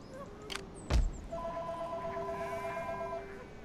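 A telephone rings in a few steady electronic tones after a couple of thumps, close by, with no speech.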